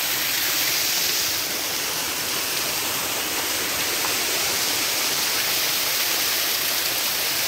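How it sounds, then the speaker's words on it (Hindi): Lake water gushes out of a pipe through a small tunnel in the Siran valley, a steady, loud, close rushing roar that fills the whole stretch without pause. "तो आए मैं आपको वो पाइप दिखाता हूँ जहाँ से इस झील का पानी आता है।"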